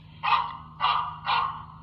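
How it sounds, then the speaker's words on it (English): Recorded dog barks play back from a homemade garden deer-deterrent sound device, three evenly spaced barks, moderately loud and slightly tinny, over a steady low hum with no talk. "I've already recorded some dogs. So this is a test sound."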